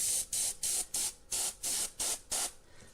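A Mr. Airbrush sprays acrylic paint in short, repeated hissing bursts, about eight pulses of close, steady spray with brief gaps between them.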